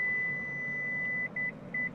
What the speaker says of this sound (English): When you hear the 2 beeps, the operation is complete.